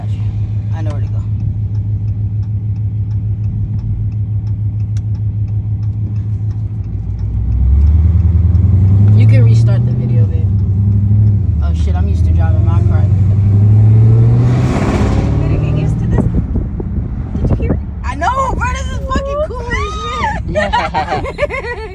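A Dodge Hellcat's engine growls as it accelerates hard on a freeway, a loud rising roar that swells and climbs through the gears. Voices talk over the car both before and after the pull.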